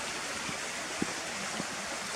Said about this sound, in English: this is the stream that's coming down from Janet's Foss waterfall